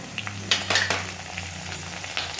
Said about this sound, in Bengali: কিছুটা এইভাবে গোটা গোটা করে লাল লাল করে ভেজে নেব